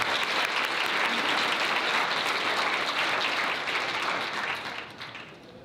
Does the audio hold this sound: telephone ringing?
no